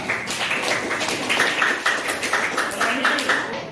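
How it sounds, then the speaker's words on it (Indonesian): A crowd claps together in a steady burst of applause, dense and fairly loud, with some voices mixed in, in a classroom. "Tepuk tangan buat kinestetik putri yang semangat"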